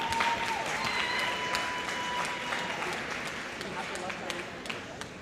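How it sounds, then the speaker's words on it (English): Warm crowd applause at a Warriors charity event, a dense, steady wash of many hands clapping that tapers slightly toward the end, with faint voices mixed in. "Everyone give them all a warm round of applause"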